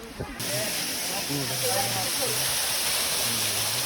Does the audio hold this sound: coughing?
no